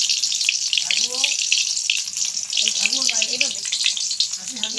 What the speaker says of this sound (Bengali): এইভাবে সমস্ত ফুলগুলো এবার একটা তেলের মধ্যে দিতে দিলাম।